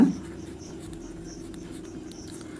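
A pen writing out a math proof, a faint scratchy stroke over a low steady hum, quiet and close throughout.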